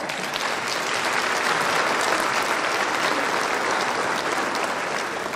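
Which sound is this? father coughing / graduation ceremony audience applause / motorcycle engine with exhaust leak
graduation ceremony audience applause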